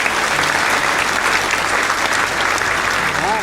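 Steady crowd applause fills a hall at an Eid Milan gathering at Shahjahan Heart Hospital, dense and even throughout with a faint voice briefly audible near the end.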